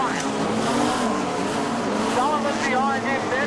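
Modified production race cars roaring around Charlton Raceway at night, engines droning and rising in pitch as they pass, under continuous commentator talk.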